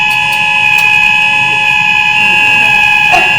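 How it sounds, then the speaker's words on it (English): A fire alarm goes off during a university lecture, a loud, continuous high-pitched electronic tone that holds steady throughout with faint room noise beneath. "Is that a fire alarm?"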